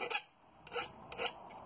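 A file smooths the rough edges of an early medieval-style boss-capped rivet cap in three short, quiet rasping strokes with brief pauses between them.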